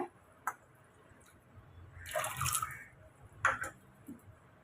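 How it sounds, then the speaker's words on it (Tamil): A brief splashy gush of water poured into a metal pressure cooker holding peas, with a few faint drips and clinks before and after in a quiet room. "சேர்த்துட்டு பட்டாணி முங்குற அளவுக்கு தண்ணி சேர்த்துக்குங்க"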